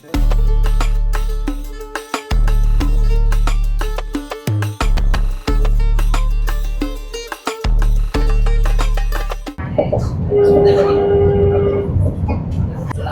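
A loud Etihad Rail train rumbles past in the UAE with a sustained droning horn blast broken by brief gaps, then fades into clattering rail noise.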